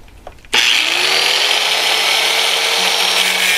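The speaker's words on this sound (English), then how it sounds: "bolt is a little too long, so I need to cut off the back of it" A steel bolt end on a donation box is cut off with a harsh, continuous abrasive cutting sound that starts abruptly and stays loud and steady to the end.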